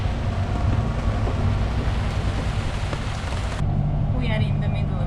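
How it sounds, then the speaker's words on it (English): Steady rain falls on a Hallberg-Rassy 54 sailboat crossing the Gulf Stream at night, heard as a constant hiss mixed with a low rumble of wind and water. "and it started raining"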